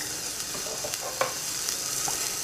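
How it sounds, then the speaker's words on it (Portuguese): A Brazilian refogado seasoning base for cooked beans sautés in a pan with a soft, even sizzle and a few light taps and stirs, brief and close. "Depois do meu feijão cozido, eu sempre faço um refogado."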